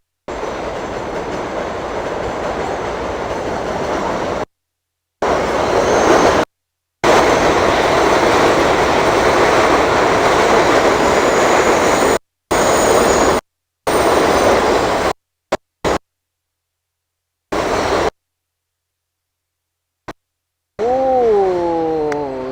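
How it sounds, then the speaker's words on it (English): A train rolls past at close range, a loud sustained rumble of rail traffic broken by several abrupt cuts to silence, with a short rising and falling tonal sweep near the end. "There's a train right now."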